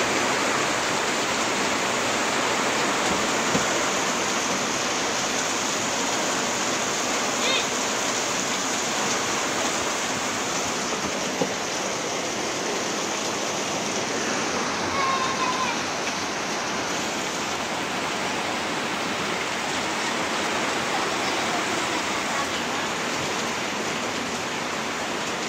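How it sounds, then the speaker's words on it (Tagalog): Heavy rain falls in a continuous loud hiss, a steady roar of downpour near a small shop during a power outage, unbroken for the whole stretch with no speech over it. "Lakas na ulan"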